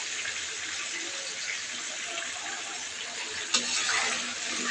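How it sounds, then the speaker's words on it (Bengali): Liquid pours into a hot cooking pan where spices are frying in oil, making a steady gushing hiss with a brief clatter near the end. Nearby and continuous, with no talking. "রসটা ঢেলে দিচ্ছি।"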